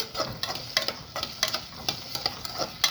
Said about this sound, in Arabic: حطيت البصل اهي تتحمر، لازم تتحمر كويس معانا